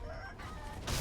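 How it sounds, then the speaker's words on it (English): Chickens clucking in Sekiro: Shadows Die Twice, a steady low-level clucking bed that swells louder near the end with a brief burst of activity. "More chickens."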